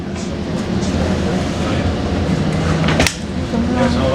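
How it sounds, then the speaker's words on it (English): A Caltrain passenger train pulls away, heard from inside the car as a steady low rumble and rolling noise with faint squeals and one sharp metallic clank. "Not long after we got on the train, the doors closed and we're about to depart."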